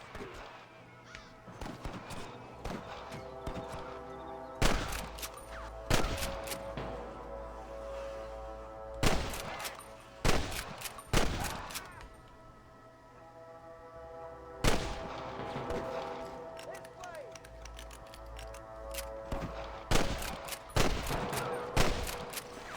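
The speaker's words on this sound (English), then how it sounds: "I can hear more gunshots." Repeated bursts of Red Dead Redemption gunfire on PS5, sharp loud shots in clusters over a steady background drone and music, with occasional quieter gaps.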